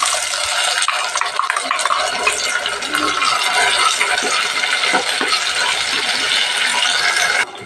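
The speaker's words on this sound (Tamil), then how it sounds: "இந்த வெங்காயம் தக்காளியும் ஓரளவுக்கு நல்லா வதக்கிக்கணும்." Ground onion and tomato paste sautéed in a pan for a garlic-pepper shark fish curry, giving a steady, close sizzle with continuous stirring and scraping that runs without pause.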